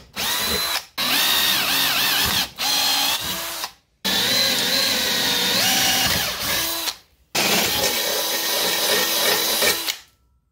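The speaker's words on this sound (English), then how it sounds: "I can use my drill and we can go straight through it" A power drill bores holes through parts of a car rotisserie jig being built for an MK1 Rabbit project. It makes four loud, whining bursts of a few seconds each, separated by brief silences, with no talking.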